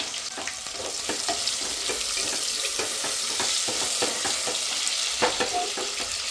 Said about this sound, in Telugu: కొంచెం ఫ్రై చేసుకోవాలి ఆనియన్స్ ఈ ఆనియన్స్ కూడా ఫ్రై చేసేసుకోవాలి